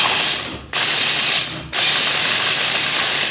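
A hand mixer and blender grinding soya beans roars loudly and steadily, cutting out twice for a moment before starting up again.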